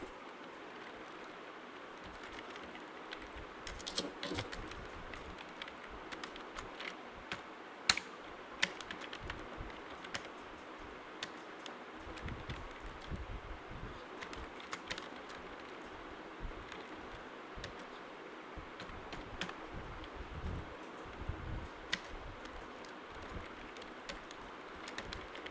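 Continuous typing on a computer keyboard while writing text in Microsoft Word, a steady stream of close, crisp key clicks with irregular rhythm and occasional louder taps throughout, without speech.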